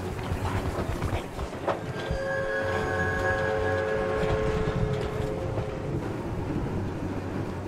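Monster train from the horror game Choo-Choo Charles, rumbling and chasing close behind, with steady loud mechanical roar and sustained tonal whistle-like screeches layered over the noise for several seconds.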